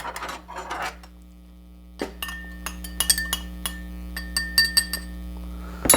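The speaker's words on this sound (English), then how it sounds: "Give that like a little stir." A spoon stirs a Skrewball peanut butter whiskey cocktail in a glass, giving a series of sharp, close clinks and taps of varying loudness after a brief rustle at the start.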